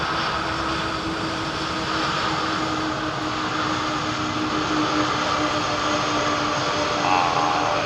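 Jet airliner engines roar steadily on arrival at London Heathrow Airport, a loud, continuous broadband drone with a faint whine that holds throughout without pause.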